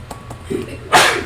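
A single sharp sneeze bursts out close to the microphone during a live tabletop Dungeons & Dragons session, just after some faint murmuring voices.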